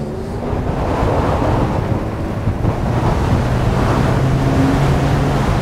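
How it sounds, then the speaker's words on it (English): Wind on a windy, super cold day buffets the microphone outdoors in a loud, steady roar with a low rumble throughout, no voices heard. "It's a windy, super cold day today"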